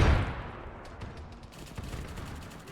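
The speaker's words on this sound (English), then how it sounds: "No, that's the twin stubber machine gun." Twin stubber machine gun firing in Arma 3 during a Warhammer 40k scenario, a rapid string of shots that keeps going at moderate distance under general battle noise, with no talk.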